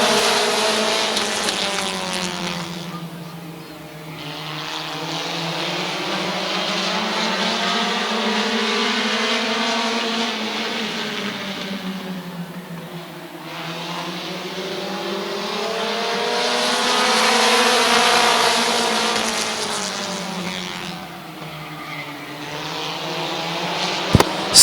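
Race cars in an eight-lap heat race at Midvale Speedway, their engines roaring loudly as the pack passes in repeated swelling and fading waves as they circle the track, with pitch rising and falling.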